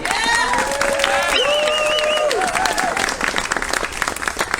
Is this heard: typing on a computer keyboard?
no